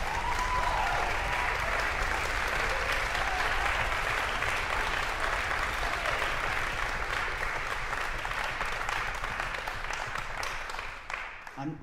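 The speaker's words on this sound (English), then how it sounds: "we should applaud them for their incredible efforts" A concert hall audience applauds the woodwinds and brass of a conservatory orchestra, dense sustained clapping filling the room at steady loudness before thinning slightly at the end.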